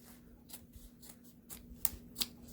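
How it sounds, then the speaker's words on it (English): Several sharp scissor snips cutting folded fabric at irregular intervals against a quiet background, the last two louder and crisper. "I'm going to take my scissors and I'm going to"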